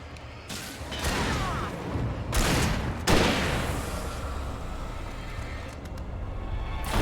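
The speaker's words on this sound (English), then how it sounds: "Shooting!" Gunfire in the Alan Wake video game, a dense, loud barrage of shots with sharp bursts around the middle, layered over ongoing game noise and rumble.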